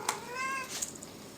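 A house cat gives a single clear meow indoors, close and fairly quiet, followed by faint room noise.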